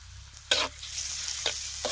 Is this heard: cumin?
yes